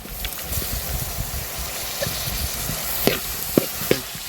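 Chopped tomatoes hit frying onions for a goat head gravy, a close, steady sizzle with soft stirring knocks and a few sharper clicks toward the end.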